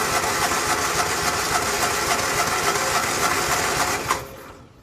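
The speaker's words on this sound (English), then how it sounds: "so that should turn the engine over." A Morris Minor engine cranks over on the starter in a fast, even chugging rhythm for several seconds before cutting off abruptly, loud and close in a garage.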